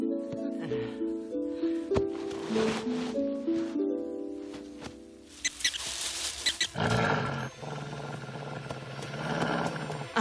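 A wolf in the animated series Yakari growls and snarls on the plains, a rough, noisy rumble that swells after a stretch of musical score and holds loud and close to the end.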